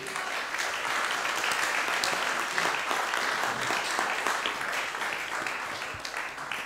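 A lecture audience applauds Marco at the close of a conference segment, steady dense clapping filling the whole stretch at moderate level with no break.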